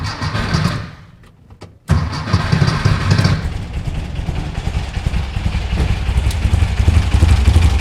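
A 1964 VW Beetle air-cooled engine with a dual EMPI carburetor kit settles into an idle after a brief dip, then runs with a loud, steady, close-up rumbling putter.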